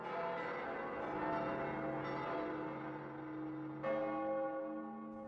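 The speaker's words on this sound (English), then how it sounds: "this is the sound of Rome's 900 or so churches responding." Bells of Rome's many churches ring together at midday, a dense wash of sustained, overlapping tolls heard from a distance, with a fresh strike near the end and no voices.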